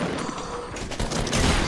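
Gunfire rattles in a multiplayer video game, a loud, dense burst of rapid shots with no break.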